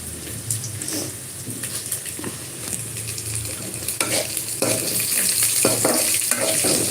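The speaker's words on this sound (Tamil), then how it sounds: "இப்போ வந்து காஞ்ச மிளகாயும் போட்டு அதில் வதக்கலாம்" Dried red chillies sauté in a generous pool of oil, giving a steady close crackling sizzle broken by occasional stirring scrapes, with no talk.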